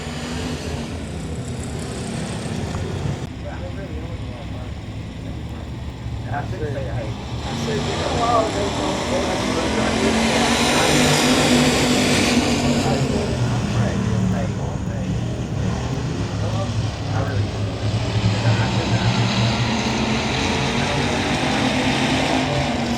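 Factory stock race cars roar around Super Bee Speedway at night, a broad engine drone swelling as cars pass, with a commentator talking over the track noise throughout.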